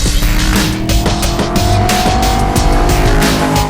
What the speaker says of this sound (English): it sounds unlike any other M3 on the planet, more like a race car than a road machine